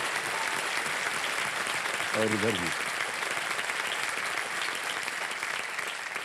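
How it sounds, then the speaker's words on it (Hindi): A studio audience breaks into sustained applause, steady clapping from a large crowd that carries through the whole stretch while someone speaks briefly over it. "तालियां बज जाए इनके लिए।"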